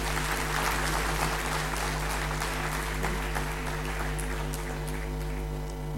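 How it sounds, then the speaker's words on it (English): Sustained applause from a conference audience fills an indoor hall, steady and dense clapping throughout with no break. "a round of applause from all of us"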